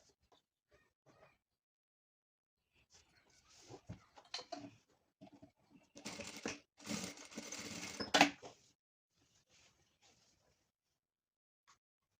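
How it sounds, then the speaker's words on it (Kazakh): A sewing machine stitches the corner seam of a fabric shopper bag in short bursts, with quiet pauses between runs and a longer, louder run of rapid stitching in the middle. "Осы жерден 3 сантиметр өлшеп тігіп жіберем, екі жағынан да."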